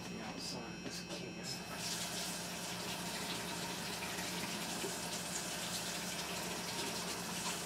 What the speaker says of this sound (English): Rinse off the outside of this can.